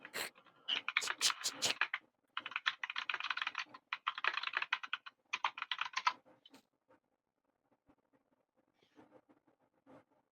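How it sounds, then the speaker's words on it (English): Rapid clattering keystrokes on a computer keyboard come in dense bursts for about six seconds and then fade to a few scattered, faint taps in an otherwise quiet room. "I just heard typing noises"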